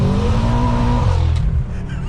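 A tuned BMW M5 with an aftermarket exhaust line and 741 horsepower idles and revs from inside the cabin, giving a loud, steady droning engine note that dips near the end.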